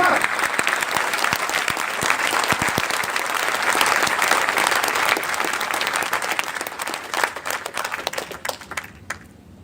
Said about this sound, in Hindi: ताली एक जोरदार बजाओ